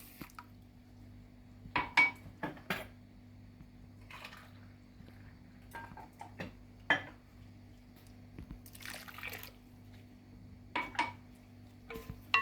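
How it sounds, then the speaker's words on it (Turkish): Soaked bulgur is stirred in a bowl with a spoon, making scattered wet squishes and light clinks against the bowl, separated by quiet pauses under a low steady hum. "Biraz karıştıralım. Kuru kalmasın bulgurumuz."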